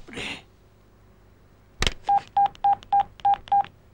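A telephone being dialed in a Telugu comedy film scene: a sharp click followed by seven evenly spaced keypad tone beeps, clear and close, with no talking.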